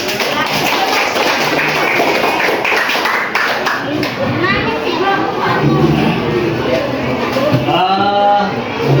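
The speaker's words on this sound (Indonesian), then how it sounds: "Tepuk tangan." A Year 7 class claps hands together in a classroom at the end of a lesson, a dense, steady patter of many palms under scattered children's chatter, with a voice emerging near the end.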